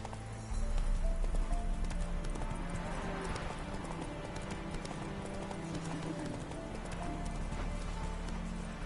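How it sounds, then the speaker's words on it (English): A horse gallops in The Witcher 3: Wild Hunt, its hooves clip-clopping in a fast, steady rhythm throughout, loud and close under constant game ambience. "Run, Roach"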